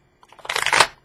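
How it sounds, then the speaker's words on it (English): Lenormand cards shuffled by hand during a card reading, a brief soft riffle of papery flutter that builds quickly to a dense burst and then stops, close and alone. "they're telling me to shuffle one more time"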